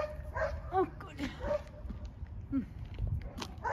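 A long-haired dog outdoors in a meadow gives short barks and high whimpering yelps at moderate distance while people talk over it.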